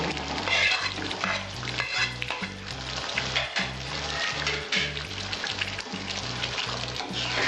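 Potatoes and bitter gourd fry in a pan with slit green chillies, a steady loud sizzle with stirring scrapes throughout, over a rhythmic musical beat.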